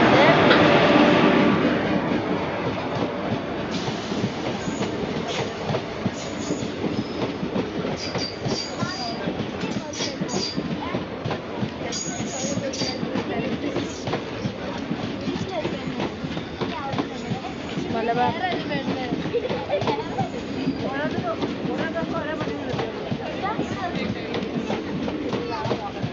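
The Malabar train arrives at a station, a loud continuous rumble of rolling wagons with clattering wheels and squeals, close by, while people talk over it throughout.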